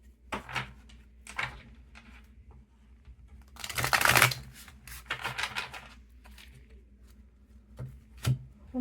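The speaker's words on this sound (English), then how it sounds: "One more shuffle." Tarot cards are shuffled by hand in several bursts of riffling and slapping, with one long loud flurry in the middle and short crisp snaps around it, close to the mic in a quiet room.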